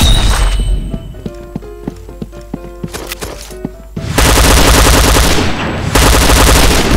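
Rapid gunfire from the Point Blank online shooter game, with sharp bursts of automatic shots and single cracks, loud and close, then a dense continuous roar of firing and explosions in the second half, no talking.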